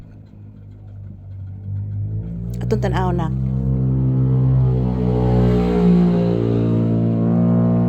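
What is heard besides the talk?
loud motorcycle engine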